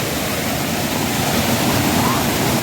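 Gajpalla waterfall in Gariyaband roars as a dense, continuous rush of falling water, loud and close, filling the whole moment with no breaks.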